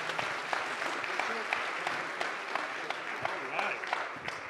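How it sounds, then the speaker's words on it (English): Audience at a medical cannabis conference in Berlin applauding the panelists at the end of a session; sustained, even clapping from a sizeable crowd, moderately distant, with occasional louder individual claps. "Round of applause for our panelists here."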